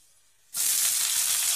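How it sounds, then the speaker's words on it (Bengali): Onion, chili, garlic and cumin hit a hot pan of oil; after a near-silent moment a loud, bright sizzle bursts out and keeps hissing steadily close by. "পেঁয়াজ লঙ্কা রসুন জিরে লাল হয়ে গিয়েছে"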